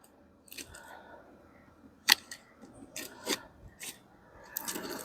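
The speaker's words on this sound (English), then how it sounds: "we should probably try and snip them out of there" Garden clippers snip roots out of a backyard path, making several sharp cuts and rough rasping scrapes at close range, with no talking.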